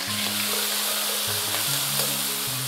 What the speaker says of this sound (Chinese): 把锅烧热，先给它淋上点油，来把这个鲜虾给它放进去煎香